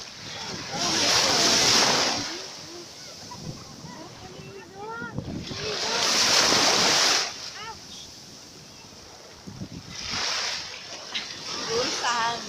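Sea waves at Alexandria, Egypt break and wash ashore in three broad surges, each swelling into a loud hissing rush and then receding, with wind and faint voices in the background between breaks.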